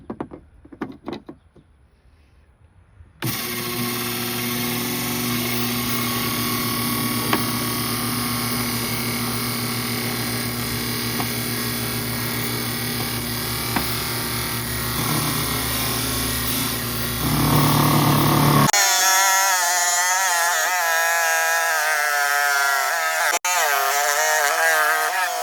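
A saw slicing through Texas palm wood and agate, a long steady loud grinding drone close up that lasts over fifteen seconds, then shifts to a higher whining tone with wavering pitch near the end, with soft talk just before the cut begins.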